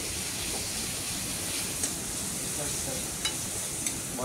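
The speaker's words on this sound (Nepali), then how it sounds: "त्यसले प्याज भुट्नुपर्छ सुरुमा।" Onions fry in a pan with a dense, even sizzle that carries close and steady, broken by a few soft clicks of stirring.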